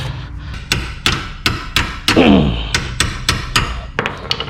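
A sledgehammer strikes the outer tie rod on a 2014-2021 Mazda 6 in a series of sharp metallic blows, about a dozen close, loud hits at an uneven pace with one longer ringing thud in the middle.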